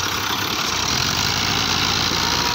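A Massey Ferguson 240 tractor stuck in soft ground runs with a steady, loud diesel drone and rumble throughout, no voices over it.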